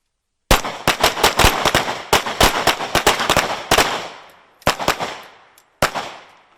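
Pistol and rifle gunfire on a U.S. Marine training range, a rapid string of loud close sharp shots in quick pairs and bursts, then a pause and two more single reports echoing out.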